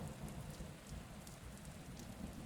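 Steady rain falls on surfaces, a dense continuous hiss with scattered drop patter and low rumbling beneath, evenly loud throughout with no voices.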